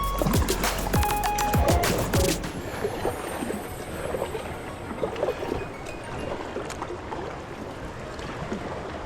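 A kayak paddles through a slow stretch of water, with soft paddle splashes and drips against outdoor wind noise, preceded by a brief loud clattering burst at the start.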